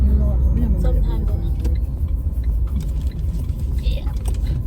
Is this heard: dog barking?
no